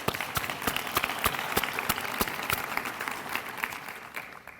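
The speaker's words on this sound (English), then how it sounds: "I just want to ask you to join me in a round of applause for them" An indoor audience at a workforce advisory meeting applauds, with steady sustained clapping from a moderate-sized crowd that holds evenly and fades slightly toward the end.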